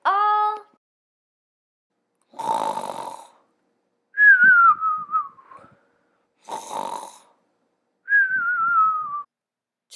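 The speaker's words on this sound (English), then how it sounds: "Then we heard some snoring." Cartoonish snoring repeats in a slow rhythm, rasping inhales alternating with whistling exhales, loud and close with no talking.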